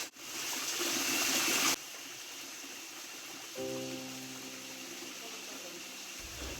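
Steady rushing water from a hidden waterfall in forest near Ripponpete, Shivamogga, heard as a continuous broadband roar at moderate distance with no speech.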